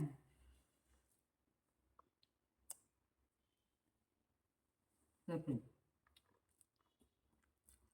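Someone chews homemade mango pickle close up, making soft wet clicks and smacks. A brief burst of chewing in the middle is surrounded by scattered faint mouth clicks in a quiet room.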